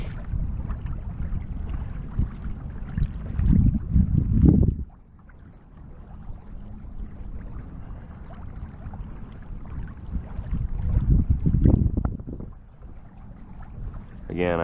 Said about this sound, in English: I apologize for the wind. I didn't anticipate the wind being this bad